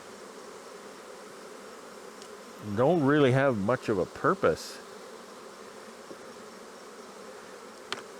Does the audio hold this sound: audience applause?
no